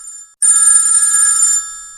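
A meme ringtone sound effect: a bright, high electronic ring tone that starts after a short gap and holds steadily for over a second before fading, loud and alone.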